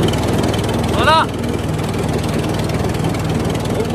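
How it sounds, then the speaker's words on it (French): A lawn mower runs steadily in a garden in January, a low continuous engine drone with a brief higher whine from someone talking near the start. "Au mois de janvier, on passe la tondeuse."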